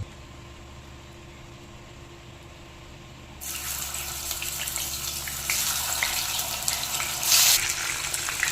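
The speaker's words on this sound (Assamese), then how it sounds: "এতিয়া মগুৰ দাইলকেইটা ধুনীয়াকৈ খচি খচি ধুই ল'ম।" Pieces of magur catfish are washed in water for fish head curry. After a few quiet seconds, running water starts and rushes and splashes steadily close by, swelling louder toward the end.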